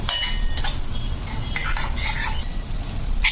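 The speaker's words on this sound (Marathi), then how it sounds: "आता तेल सुटेपर्यंत आपण हा मसाला परतून घ्यायचा आहे" Metal spatula scraping and clinking against a pan while stirring a masala for egg curry, with a low sizzle underneath, close and without talk.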